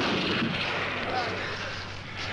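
Artillery and gunfire crossfire in a war-film battle against Tiger tanks, a dense sustained roar of blasts, with voices faintly under the din.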